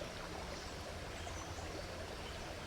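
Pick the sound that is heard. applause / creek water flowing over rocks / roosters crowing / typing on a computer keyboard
creek water flowing over rocks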